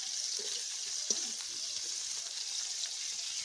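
Bitter gourd and eggplant fry in hot oil with a steady, even sizzle throughout, a constant hiss with a few small pops and stirring clicks.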